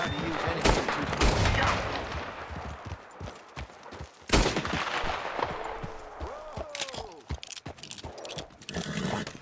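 Gunfire aimed at rabbits in the video game Red Dead Redemption 2: a few sharp shots crack out, one loud report midway, while hooves clip-clop and characters talk nearby.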